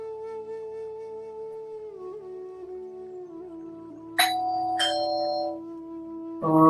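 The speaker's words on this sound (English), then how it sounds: "who's ringing the bell?" A doorbell chimes twice in quick succession over soft sustained background music, followed by a louder tonal hit at the end.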